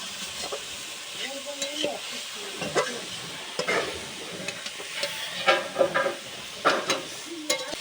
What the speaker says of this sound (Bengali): এইভাবে ভালো করে নেড়ে নিতে হবে